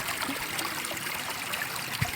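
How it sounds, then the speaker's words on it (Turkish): A very small stream trickling and flowing nearby, a faint, steady wash of water with no voices. "Çok küçük bir dere öyle görüyorsunuz da."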